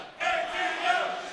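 A crowd at a fighting game tournament bursts into loud, sustained cheering and shouting after a brief quiet start, roaring on at a moderate distance.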